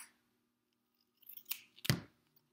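Scissors snip through a piece of duct tape being cut for a bow, two or three quick close cuts after a near-silent pause.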